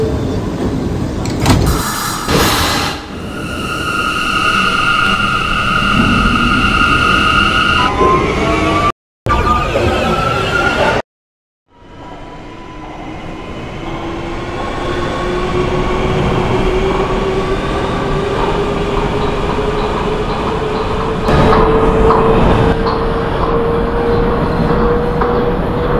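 Simulated R179 subway shuttle train on the Rockaway Park line in OpenBVE, with a door chime, a door-closing sequence and brief dropouts, then a loud traction motor whine that rises steadily as the train pulls away.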